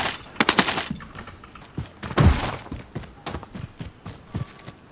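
R9 shotgun fire in Call of Duty Warzone, a burst of sharp, loud blasts near the start and one heavy boom around two seconds, followed by scattered fainter shots and clatter.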